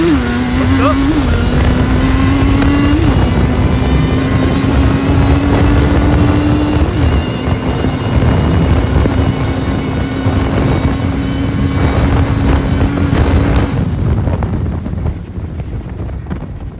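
A quad ATV revs hard in a steady loud drone with a few sharp pitch jumps at gear shifts, a Blaster against a 250X in a beginner drag race, wind buffeting throughout before the engine note drops away near the end.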